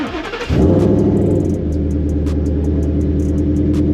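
Supercharged Whipple-equipped, Coyote-swapped Fox Body Mustang settling from a loud initial burst into a steady, deep, close idle that rumbles evenly and continuously, with no talking.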